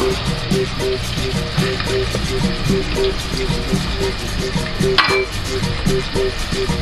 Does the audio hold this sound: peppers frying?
yes